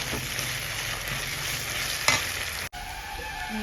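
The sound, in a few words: ginger garlic paste frying with onions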